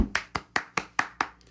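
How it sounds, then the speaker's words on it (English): Seven sharp, evenly spaced hand claps in quick succession, close and crisp with short decays, alone with no talk. "he gets his claps, he gets his flowers,"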